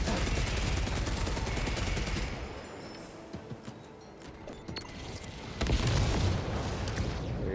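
A thermal explosive bomb in Warhammer 40000: Space Marine 2 erupts amid a dense barrage of gunfire and booms, loud and continuous, dropping briefly before another heavy burst of blasts.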